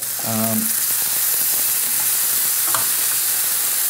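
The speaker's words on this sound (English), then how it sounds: "Next I'm going to go in with the tomatoes." Half a tin of blended tomatoes with a little tomato puree hits a hot pan, giving a steady broadband sizzle throughout, with a short clatter of stirring near the start.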